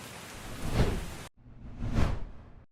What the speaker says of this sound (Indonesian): Setelah itu hujan pun turun dengan deras.